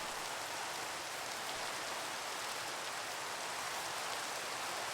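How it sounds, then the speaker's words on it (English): Steady rain falling in the Minecraft SevTech Ages modpack, a dense, even hiss of drops that stays constant throughout with no talk. "Oh, now it's raining."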